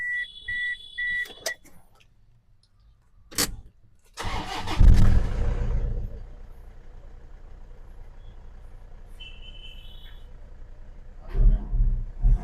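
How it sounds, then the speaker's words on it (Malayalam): A Toyota Innova engine cranks and catches with a loud burst, then settles into a steady low idle running alone, with a few short clicks and small beeps before the start and a brief rev near the end. "ഇനി നമുക്ക് എൻജിൻ സ്റ്റാർട്ട് ചെയ്ത് നോക്കണം."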